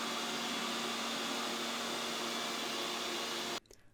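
An ECOVACS Deebot N79S robot vacuum cleaner runs with a loud, steady, broadband whirring hum that holds constant, then abruptly cuts off near the end, leaving a brief faint rattle.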